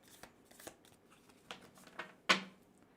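Tarot cards are shuffled in a quiet room, a few soft riffles and sharp flicks spaced irregularly, close and gentle, ending with one crisper snap.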